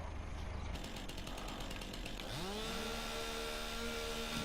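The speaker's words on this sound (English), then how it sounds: "I'm not sure if you can cut into this with a chainsaw or not." A chainsaw in the Farming Simulator 19 video game buzzes steadily, then revs up into a rising whine that holds at a high pitch, loud and close with no talking.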